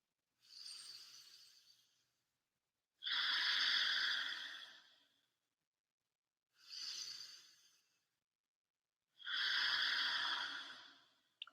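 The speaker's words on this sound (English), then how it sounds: "Breathe into those hands and exhale." Deep pranayama breathing: four slow, alternating inhales and exhales, each a long airy rush lasting one to two seconds with quiet gaps between, close and steady with no talking.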